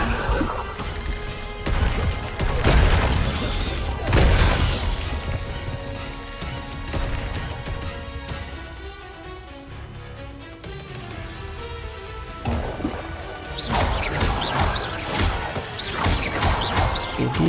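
Loud blasts and crashes from the Bombarda blasting spell in the video game Hogwarts Legacy, with heavy bursts early and late and a busy, cluttered stretch of combat effects and game music between them.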